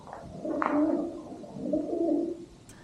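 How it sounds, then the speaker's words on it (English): Pigeons coo softly in two low, rolling phrases inside an old haunted Irish castle, with no voices nearby and a brief faint chirp at the end. "There were pigeons cooing at us"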